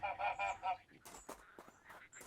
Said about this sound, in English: Ah, goose.